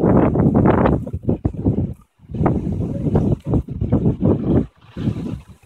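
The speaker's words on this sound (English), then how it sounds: "But it is really windy." Gusty wind buffets the microphone in loud, rumbling bursts, dropping briefly to near silence between gusts.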